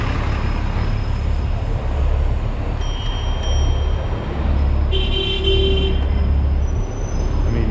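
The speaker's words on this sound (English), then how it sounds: "I'm not sure if this is technically gridlock or just traffic" Congested New York City street near the UN, a loud steady roar of idling traffic with several car horns sounding, one longer honk midway, heard close and unbroken.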